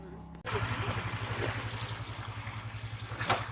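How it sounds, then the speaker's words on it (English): A boat engine drones steadily with a low pulsing rhythm as the boat approaches on a rainforest river, loud and close, under a wash of broadband noise; a brief sharp sound comes near the end. "Boat is coming. This is our boat."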